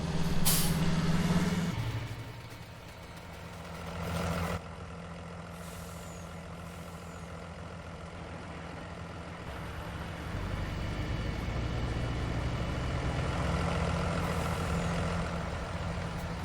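A truck in Farming Simulator 19 drives with a steady low engine drone, opening with a loud hiss of air brakes and a brief burst, then rolling on at a constant moderate level with no talk.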